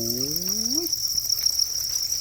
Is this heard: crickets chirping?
yes